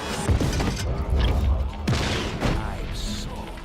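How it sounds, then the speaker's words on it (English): Heavy booming blasts and crackling debris from a gas station explosion in Just Cause 3, several deep rumbling hits with rattling bursts in between. "that was a gas station that just blew up"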